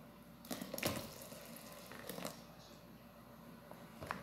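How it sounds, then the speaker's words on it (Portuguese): Water is poured into homemade liquid detergent and stirred with a small spoon, giving faint splashes and scraping clinks in a few short bursts, close and quiet. "Eu vou colocar um pouquinho mais de água e vou mexer."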